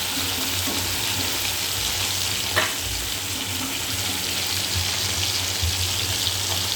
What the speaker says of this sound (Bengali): খুব আলতো আলতো করে এপাশ ওপাশ করে ভেজে নিতে হবে